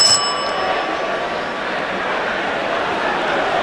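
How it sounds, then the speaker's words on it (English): A short bell rings right at the start to mark time running out in a national science and maths quiz final, then gives way to steady, hissing crowd noise in the hall. "The bell had gone."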